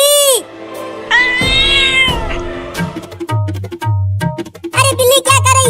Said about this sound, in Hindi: अरे बिल्ली क्या कर रही है?